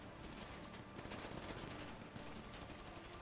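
Rapid bursts of automatic gunfire from a video game shootout, sustained and dense throughout at a quiet, even level with no speech over it.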